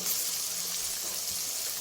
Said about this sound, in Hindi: अब इसमें पानी शामिल करते हैं।